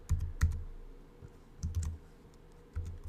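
Computer keyboard keys tapped in short irregular bursts of clicks, close and quiet with pauses between them, no voices.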